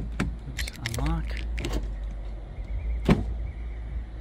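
A Porsche 997 door unlocks with a sharp click and jingle of keys, followed by the whir of the power window motor and another clunk, close up while someone talks.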